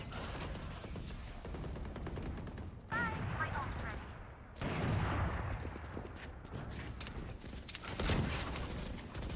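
Gunfire in a video game, bursts of rapid shots and mechanical clatter from weapon handling, close and loud against a steady game background.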